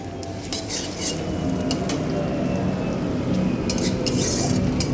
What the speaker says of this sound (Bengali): আদা আর রসুন বাটাটা দিয়ে আমি কিছুক্ষণ একটু নেড়ে চেড়ে একটু কষিয়ে নিচ্ছি